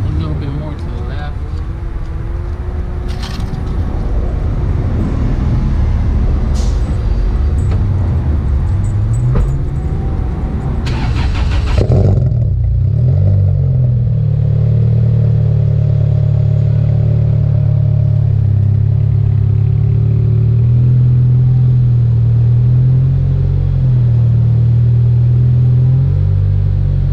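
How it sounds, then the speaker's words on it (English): A Toyota TRD vehicle's engine cold-starts partway through and settles into a low, rumbling idle with small shifts in pitch, heard close and steady after the start. "Let me give you a quick little cold start"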